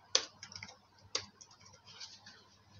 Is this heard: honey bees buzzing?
no